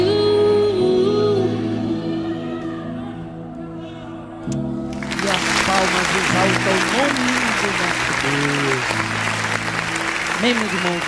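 Clapping from a church congregation swells in after a few seconds of worship music and continues steadily under ongoing instruments and singing.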